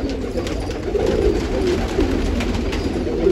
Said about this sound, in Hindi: देखो दोस्तों, शानदार कबूतर।